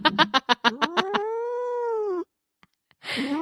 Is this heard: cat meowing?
yes